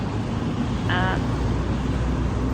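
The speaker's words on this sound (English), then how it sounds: "You can hear all the traffic." Steady road traffic roars outside an exhibition centre hosting a craft and quilt fair, a loud, constant broadband rumble of passing cars with a short tonal squeal near the middle.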